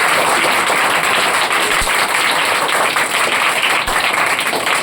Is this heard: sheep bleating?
no